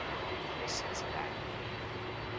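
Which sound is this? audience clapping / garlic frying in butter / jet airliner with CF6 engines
jet airliner with CF6 engines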